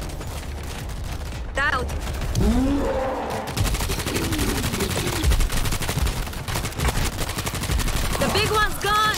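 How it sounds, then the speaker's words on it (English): Machine gun fire in the video game World War Z, sustained rapid bursts mixed with other gunfire and game effects, loud and dense throughout, with a player shouting over it. "Machine gun locked in!"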